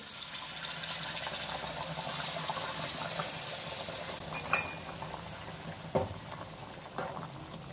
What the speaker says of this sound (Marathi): आता यात गरम पाणी टाकून घेऊ।